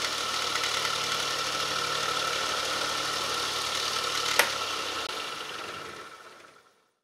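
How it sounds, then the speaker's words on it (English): Marinov motor generator test rig running on about 13 volts, a steady mid-pitched electric motor whine with a constant buzz, one sharp click, then the sound winding down and fading to silence. "It's the Marinov motor generator setup"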